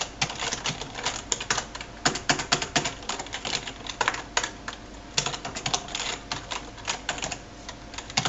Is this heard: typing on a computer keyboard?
yes